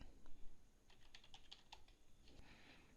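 Quiet keystrokes on a computer keyboard, typed in short bursts with no speech.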